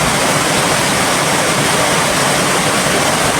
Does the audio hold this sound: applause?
no